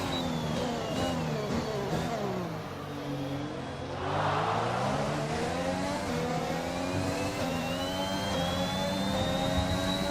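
Formula 1 car engine in the racing game F1 21, a loud continuous high-pitched whine with rising and falling gear-shift sweeps, trailing closely behind another car onto the track, with a brief airy rush in the middle and no talk.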